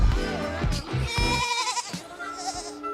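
Several goats in a zoo enclosure bleat loudly and close by, overlapping wavering cries one after another, with no speech.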